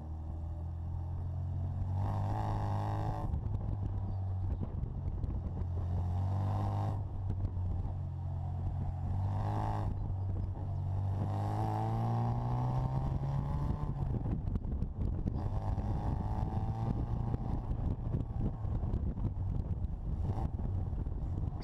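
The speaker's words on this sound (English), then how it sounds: "So a lot of the tire skidding that you'll hear is actually the inside rear wheel on this green car, Billy" Two Bugeye Sprite race cars driving on a track, steady engine drone rising and falling with gear changes and faint tire skidding from an inside rear wheel, heard from nearby with wind noise.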